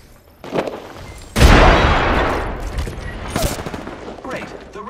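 In the battle royale shooter Apex Legends, a frag grenade blast is followed by a sudden loud, booming burst and a rattle of gunfire, with scattered shots before and after.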